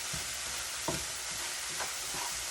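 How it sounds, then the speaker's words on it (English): Chopped garlic, a generous amount, frying in a pan for a vegan butternut squash puree: a steady broadband sizzle with a few soft stirring scrapes. "I love garlic. And we let it fry a little bit"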